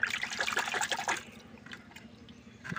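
Tilapia fish being washed in water, with a splashing, trickling wash for about a second, then quieter dribbles and drips.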